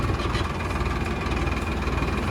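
A Farmtrac tractor runs in first high gear while working a field with a rotavator. Its engine drones loudly and continuously with a faint rhythmic pulse.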